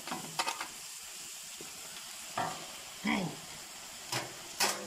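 Potatoes fry with tomato and lean pork in a pan, giving a soft sizzle under intermittent stirring clatter and scraping, while a voice briefly speaks.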